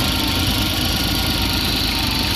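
A 1988 John Deere 322 garden tractor engine runs steadily at idle, a loud, continuous mechanical drone with a rough vibrating texture and no pauses.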